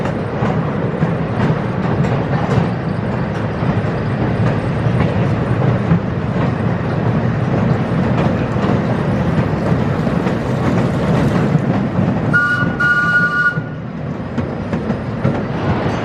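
An amusement park ride train runs on wooden coaster track at Indiana Beach, rumbling and clattering close up in a steady stream, with a short high squeal near the end.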